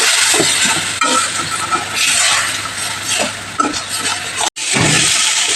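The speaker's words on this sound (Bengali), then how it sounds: "হলুদ আর সামান্য পরিমাণে চিনি দিয়ে এটাকে ভালোভাবে কষিয়ে নেব" Potato and soybean curry spice paste with turmeric and sugar frying in a pan, a continuous loud sizzle broken by stirring scrapes and a brief pause near the end.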